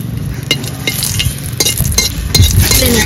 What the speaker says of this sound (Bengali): শুকনো লঙ্কা ভেজে নেব।